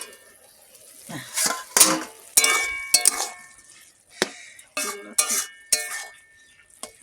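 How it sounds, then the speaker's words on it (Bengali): While lote fish curry cooks, a metal pot lid is lifted and handled with a series of sharp clinks and clatters. Scattered utensil knocks and a faint sizzle sit between the bursts. "ঢাকনাটা খুলবো"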